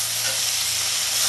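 Cumin paste stirred and frying in a pan for a Bengali potol, potato and fish curry, giving a steady close sizzle with light scraping of the spoon, alone without talk.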